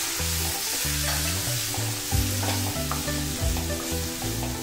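Sweet corn, cabbage and raw banana are stirred in a frying pan with a steady, loud sizzle throughout, a spatula scraping in rhythmic strokes close up, and no talking.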